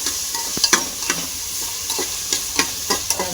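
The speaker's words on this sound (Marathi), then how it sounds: "मस्त तळून घेऊ आपण याला" Peas and chopped onion frying in a pan for masale bhaat pea rice, a steady close sizzle broken by several sharp scraping stirs of a spoon.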